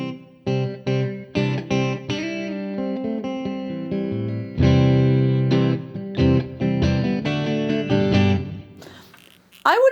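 Electric guitar through a Fender Hammertone reverb pedal on its room setting, played as plucked notes and chords with short ringing tails, close and loud, no talk.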